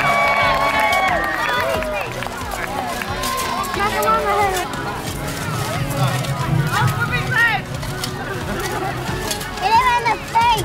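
A crowd cheering and clapping at a knights' joust at Carisbrooke Castle on the Isle of Wight, with steady outdoor crowd noise under a loud voice on a public address and hoofbeats passing by.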